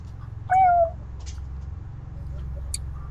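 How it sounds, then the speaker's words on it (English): A cat gives a single short, clear meow, close and fairly loud, against a quiet low hum of background noise. "Who's meowing?"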